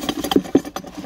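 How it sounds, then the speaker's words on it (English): An air compressor runs fully loaded in a workshop, a close chugging mechanical pulse of rhythmic knocks and rattles over a short stretch. "The air's not on, the compressor is fully loaded now"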